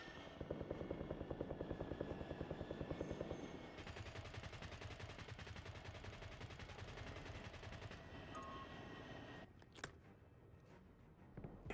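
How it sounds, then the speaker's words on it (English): Enemy attack helicopters in a video game drone with a continuous chopping rotor while rapid bursts of automatic gunfire crackle over it, the clatter thinning toward the end; fairly quiet overall with no talk. "Enemy attack helos in the airspace."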